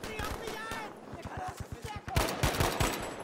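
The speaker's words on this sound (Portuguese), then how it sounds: "Eu dei um tiro. E eu já levei um tiro." Gunfire from Battlefield V arrives as rapid, evenly spaced bursts of automatic shots mixed with louder heavy blasts, while players talk over the battle.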